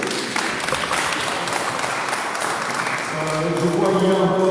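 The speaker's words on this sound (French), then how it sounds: "Nous pouvons applaudir encore pour lui." Congregation applauding at a Wednesday prayer meeting in a French-speaking church community, with steady dense clapping throughout and a voice or music rising near the end.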